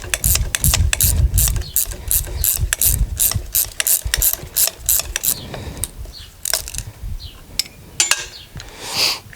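A ratchet with an 8 mm socket and pass-through clicks loudly and rapidly as it spins a nut off during a Belltech drop kit front install on a 2017 Ram 1500 4X4, followed by a few slower, scattered clicks and handling noise.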